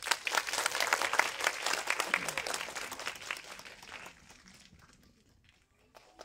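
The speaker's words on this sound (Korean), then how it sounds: "큰 박수로 맞으세요." A cinema audience at Megabox COEX claps loudly to welcome the cast of the film Harbin for a post-screening talk, a dense, close burst of applause that gradually fades out toward the end.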